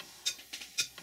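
Small Stuart Major model beam steam engine running just after its valve timing was set, giving soft, quiet, evenly spaced clicks and light knocks in a steady paired rhythm, close up with no voices.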